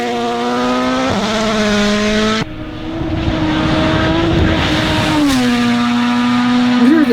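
A rally car at speed on a gravel stage in Finland, its engine loud and high-revving, pitch rising through the gears and dropping briefly at a shift, with a rough, gritty edge beneath.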